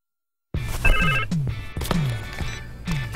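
A phone rings for an incoming call in a cell carrier commercial, several repeated ringing bursts with a bright tonal chime and thumping beats, fairly loud with no talk.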